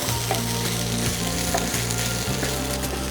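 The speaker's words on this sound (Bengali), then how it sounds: "আদা রসুনটা আমার ভাজা হয়ে গেছে" Ginger and garlic frying in a pan over low heat, a steady close sizzle with stirring scrapes throughout, no voices.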